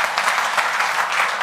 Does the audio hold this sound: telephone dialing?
no